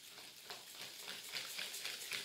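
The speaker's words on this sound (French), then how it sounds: "Et là, pareil, on vient mélanger nos œufs." Eggs being whisked in a bowl for pâte sucrée make a steady, rhythmic scraping and sloshing with repeated close strokes.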